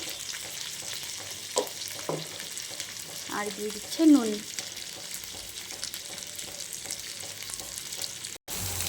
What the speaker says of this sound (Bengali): কি সুন্দর ভাজা হয়ে গেছে মশলাটা প্রায় কষে এসছে